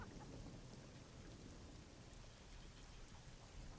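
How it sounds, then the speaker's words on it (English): Steady rain and rolling thunder from a storm ambience in Call of Duty 4: Modern Warfare Remastered, a constant dense wash heard alone with no talking. "the storm raging just outside of their coop"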